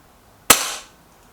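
A single sharp shot from an Artemis P15 air pistol, a crisp close crack with a short hissing decay, heard alone against a quiet background.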